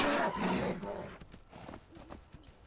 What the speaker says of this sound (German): Tobakins Pferd hat sich gerade wehgetan.